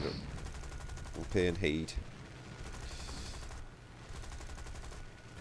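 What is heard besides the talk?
aircraft cannon fire in War Thunder video game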